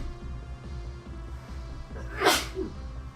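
A single sharp sneeze bursts out over steady low background rumble, loud and close, with brief noisy tail afterward.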